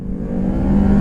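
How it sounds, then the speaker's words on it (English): A car pulling away from a car meet gives off a loud, steady whir from its rear tire, rising slightly over about a second with a low engine hum beneath. "My whole rear tire just did a little whir."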